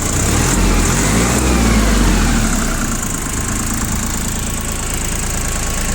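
A Shibaura SD2043 Japanese diesel tractor with a front loader idles steadily nearby, a low chugging rumble with a high whine above it, briefly revving before settling back.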